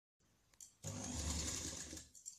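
An electric sewing machine stitches lining into a blouse: a few faint clicks, then a steady, fast mechanical whir of stitching for over a second before it winds down, quiet and close.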